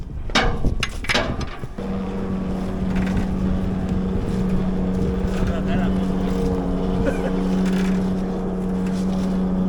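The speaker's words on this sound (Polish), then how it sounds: "Uruchomiliśmy ciągnik normalnie." An Ursus C330 tractor engine drones steadily with a strong low hum throughout, after a few sharp knocks and clanks at the start; faint voices come through underneath.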